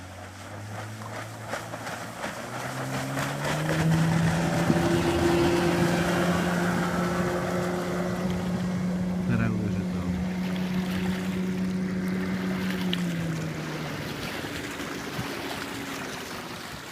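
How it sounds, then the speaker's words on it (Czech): A racing motorboat roars off from the start line and climbs onto the plane within a second, its engine droning loud and close, the note rising and steadying over the whole stretch with spray and water rush beneath. "Ta loď si ani jednou nešploukne a je ve skluzu během půl vteřiny."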